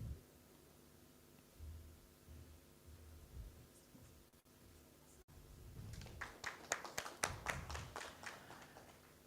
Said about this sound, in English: Ladies and gentlemen, let the applause continue.